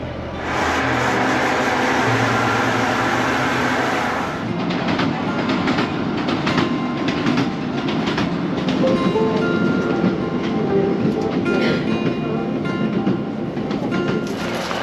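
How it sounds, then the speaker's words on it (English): A train rumbles past close by at a station in the Scottish Highlands, a steady heavy roar with rhythmic clicks and rattles of wheels over track, loud and continuous throughout. "we are waiting for that train to pass"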